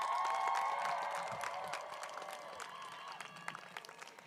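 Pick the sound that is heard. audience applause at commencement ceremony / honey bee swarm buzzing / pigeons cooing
audience applause at commencement ceremony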